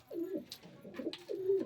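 Pigeons kept at home cooing softly, three short throaty coos in quick succession, close by and quiet with no talk.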